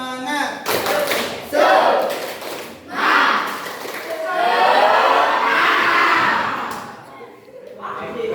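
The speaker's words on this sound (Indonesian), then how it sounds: "Tepuk semangat." Students in a classroom doing a rhythmic spirit clap in unison, short patterned bursts of hand claps mixed with group chanting and a teacher's voice, loud and close.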